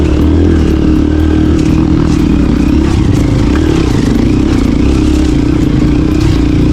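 A motorcycle engine drones loudly and steadily throughout while riding uphill on a mountain road in Pangasinan, with rattling and clatter from the ride and no voices.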